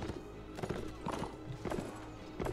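Horses in the medieval combat video game Mount and Blade Warband, with a steady clip-clop of many hooves and occasional whinnies, fairly loud and continuous throughout.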